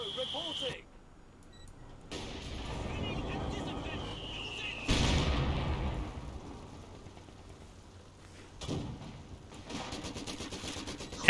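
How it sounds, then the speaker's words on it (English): Mortar barrage in Company of Heroes: a Wehrmacht mortar shelling an emplacement, with several sharp distant impacts and thumps scattered through a busy battle soundscape, some louder bursts standing out over continuous combat noise. "Looks like the Wehrmacht mortar is still alive and it's barraging the mortar emplacement"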